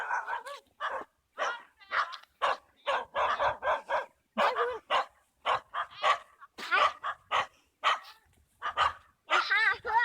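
A dog barking in short repeated bursts with some higher whimpering yips, fairly close and steady over the whole stretch.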